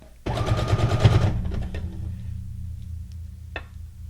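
An electric sewing machine runs a brief rapid burst of stitching over a fabric strip made from scraps, a loud rattling whir for about a second. It then stops, leaving a low hum and one small click.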